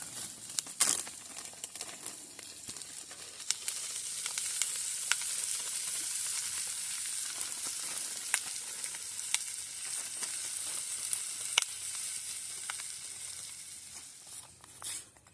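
Potatoes, corn, peas, paprika, salt, pepper, garlic and bay leaf go into a hobo stew pot at a camp, giving a steady close sizzle and frying hiss with scattered clatter and crinkling stirring sounds.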